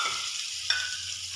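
Potatoes drop into a hot pan with garlic paste and masala, giving a steady close sizzle with a brief stirring scrape partway through, no voices.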